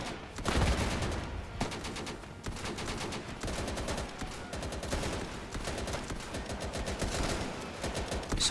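Sustained World War 2–style gunfire in the shooter game Easy Red II, dense repeated rifle and machine-gun bursts rattling steadily throughout.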